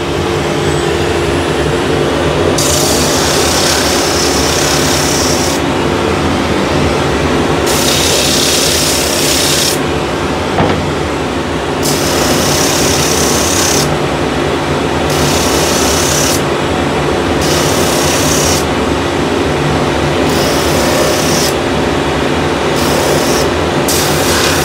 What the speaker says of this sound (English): I have this spindle. It's just a cylinder wrapped with sandpaper, and all I want to do is just make a little cutout